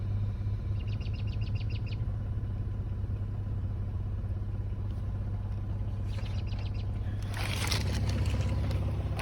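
A car idles with its HVAC blower running, a steady low engine hum and constant airy whoosh throughout, with a few faint high chirping ticks and a brief rising rush of noise near the end.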